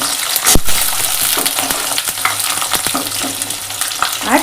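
Onion, capsicum and tomato pieces fry and crackle in oil in a pan for a chicken dish, steady close sizzling broken by occasional stirring clicks and scrapes, with no speech.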